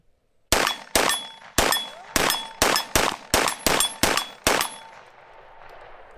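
A Foxtrot Mike FM45 firing Norma ammunition from a Korean magazine cracks off ten sharp, loud shots in a quick, slightly uneven string, each with a short ringing decay, then falls quiet.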